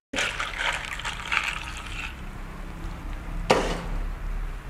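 Brewed coffee poured into a 16-ounce takeaway cup for an iced caramel macchiato, a soft steady trickle for about two seconds, then a brief splash and quieter dribble near the end.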